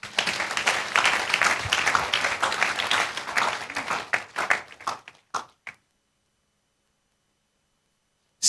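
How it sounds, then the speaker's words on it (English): Church congregation clapping loudly together during a sermon, a dense burst that thins into a few scattered claps and stops abruptly, followed by silence and one last clap. "last clap for Jesus"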